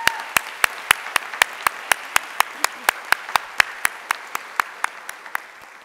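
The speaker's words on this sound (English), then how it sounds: "Let's give them another round of applause" Slow, evenly spaced sharp claps at a university convocation, honoring the first freshman class: single distinct hits on a steady beat over a soft background hum, gradually getting a little quieter.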